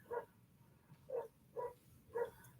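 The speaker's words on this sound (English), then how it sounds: "You hear the dogs?" Dogs bark four times in a steady rhythm, distant and faint against a quiet room background.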